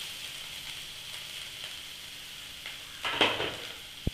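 Capsicum sautés in oil on a tawa with a faint, soft, even sizzle, broken near the end by a short burst of stirring and a sharp scrape.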